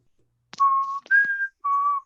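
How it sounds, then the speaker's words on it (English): A person whistles three short sustained notes, nearby and clear, with a brief rustle between the first two. "who's whistling?"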